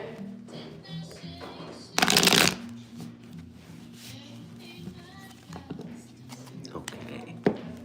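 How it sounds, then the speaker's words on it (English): A tarot card deck being shuffled close up, with one loud riffling burst followed by softer card slides and taps, accompanied by quiet whispered speech. "Give this a couple of good shuffles."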